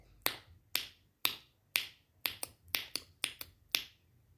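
Ten crisp, close finger-snap sounds come from a pet parrot imitating snapping. They arrive in an irregular rhythm, some in quick pairs, against a quiet indoor background.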